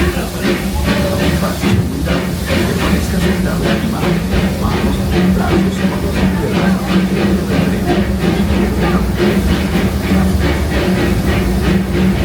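Steady rumbling ride on the Disneyland Railroad with hissing and a repeating rhythmic clatter from the rails, continuous and fairly loud throughout.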